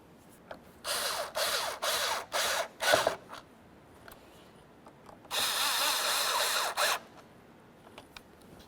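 A tool tightens the mass airflow sensor mounting screws on a 2005-2010 Chevy Cobalt, making several short ratcheting or rubbing bursts followed by one longer steady run, close and fairly loud with quiet gaps between.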